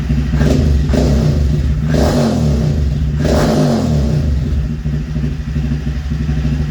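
A Honda Grom motorcycle fitted with an Aodonly Racing low side-mount loop exhaust revs loudly and close, with three sharp throttle blips rising over a deep, steady idle rumble.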